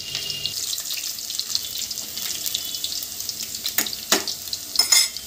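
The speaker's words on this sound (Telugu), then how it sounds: "వెల్లుల్లి మంచిగా వేగనివ్వాలి" Garlic frying in hot oil in a pan for a mushroom fry, a soft continuous sizzle with a few sharper clinks and stirring scrapes near the end, fairly quiet and with no talk.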